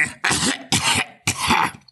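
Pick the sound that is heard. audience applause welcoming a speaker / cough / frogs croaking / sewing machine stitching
cough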